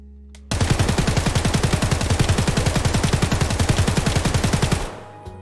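A sustained burst of full-auto fire from an SA-58 rifle in the shooter game Escape From Tarkov: a rapid, evenly spaced stream of sharp, loud shots runs for about four seconds and then cuts off cleanly, with no talking.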